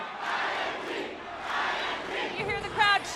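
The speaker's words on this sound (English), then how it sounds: "You hear the crowd chanting IMG." A basketball crowd chants IMG in rhythmic waves after a comeback win, loud and steady, with shouts and cheers layered over the chant.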